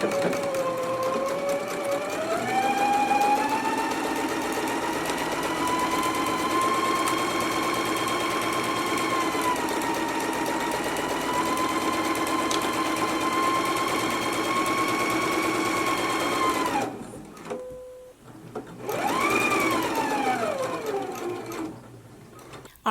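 A sewing machine runs a long continuous seam on a twist-front top, a steady close whirring hum for about seventeen seconds, pausing briefly, then revving up again for a short final burst.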